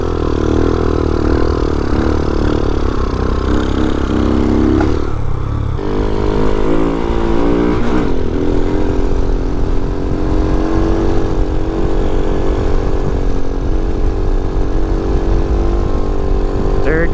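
A Vader 125 motorcycle, a small Grom-style bike, climbs a hill with its engine droning steadily and loudly, pitch shifting slightly through gear changes, heard up close from the rider's position.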